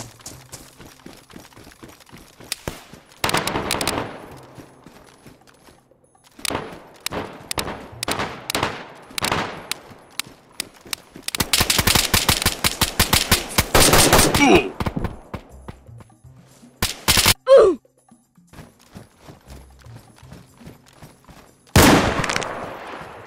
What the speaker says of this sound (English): He shoots me once with an M4, I die. I shoot him with a DMR and it does nothing.